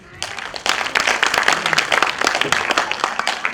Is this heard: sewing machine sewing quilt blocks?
no